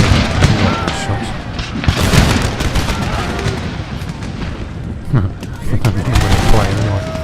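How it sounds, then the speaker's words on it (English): Musket volleys crack and rattle in ragged bursts from massed line infantry in Empire: Total War, a dense battle din of overlapping shots and booms with a few faint voices, loud and continuous. "Shots."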